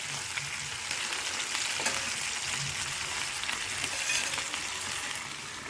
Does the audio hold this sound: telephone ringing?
no